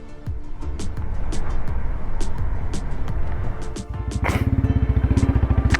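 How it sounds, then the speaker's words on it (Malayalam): A motorbike on a mountain road in Ladakh, heading toward Kargil, runs with a rough engine note, then stalls. Its electric self-starter fires it again into a loud, close, rhythmic idle. "വീണ്ടും സെൽഫ് അടിച്ചപ്പോഴത്തെ സ്റ്റാർട്ടായി."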